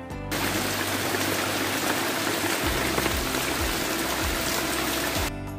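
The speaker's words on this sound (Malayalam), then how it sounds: "നമ്മൾ ഫുഡൊക്കെ കഴിച്ച് കഴിഞ്ഞിട്ടുള്ള ആ സമയമായപ്പോൾ നല്ല മഴയായിരുന്നു." Steady dense rushing of heavy rain pours down continuously at close range, a broad even wash with no voices.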